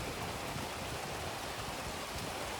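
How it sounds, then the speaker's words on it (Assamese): Sudden rain falls with wind, making a steady, dense hiss of close, moderately loud rainfall that continues unbroken with no voices. "হঠাৎকৈ আহিলে বৰষুণটো এতিয়া উপায় নাই ৰখিব লাগিব"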